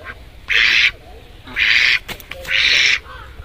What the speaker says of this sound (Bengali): এখান থেকে একটা হাঁস বের করে নেব।